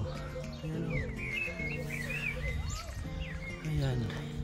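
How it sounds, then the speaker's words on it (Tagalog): Many small birds chirp and twitter continuously at Port Jack Glen on the Isle of Man, with a steady low hum and people talking underneath throughout. "Ang daming mga ibon dito. Ang mga maliliit na mga ibon."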